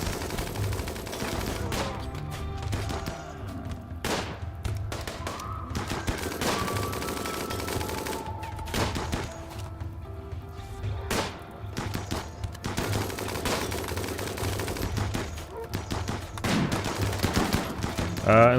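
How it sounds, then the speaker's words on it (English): Bursts of gunfire and rapid machine-gun fire rattle through a RimWorld fight as raiders shoot at muffalo, scattered sharp cracks over a dense, busy game soundscape, with some voice audible. "No, they're shooting our muffalos!"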